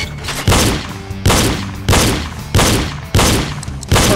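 Target shooting in the game Reload produces a steady sequence of loud, nearby gun blasts, roughly six heavy shots spaced evenly, each with a sharp attack and a reverberant, fading rumble.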